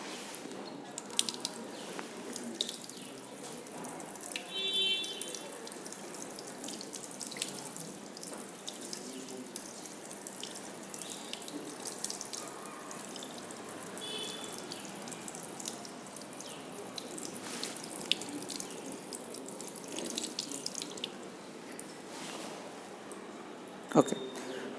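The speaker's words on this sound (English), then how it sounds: "Now we will cool it under the tap water." Tap water runs steadily into a sink for a long stretch, a soft continuous splashing with occasional drips and clinks, cooling a heated zinc sulphate solution.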